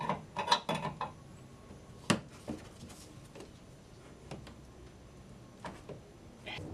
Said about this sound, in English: Lock it with the 3/4 inch wrench.